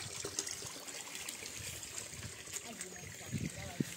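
Spring water trickles steadily year-round outdoors beside a walking path, a soft continuous flow heard alongside faint background voices.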